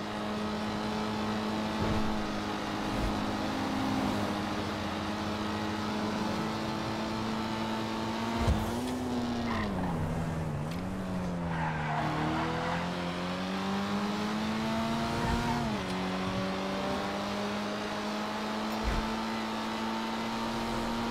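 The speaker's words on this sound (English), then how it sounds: "The sound that engine makes on the freeway." A car engine in the video game GTA Online, LS Tuners update, drones steadily at cruising speed on a freeway. Its tone dips and rises as the revs shift, continuous and moderately loud with no talk over it.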